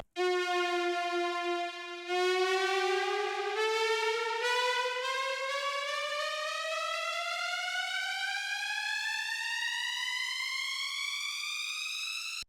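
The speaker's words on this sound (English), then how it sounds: "So that's just sort of how you would make a standard riser." Synth riser patch built in Serum: a bright buzzy tone held briefly, then sweeping steadily upward in pitch for about ten seconds, loud and continuous, ending abruptly.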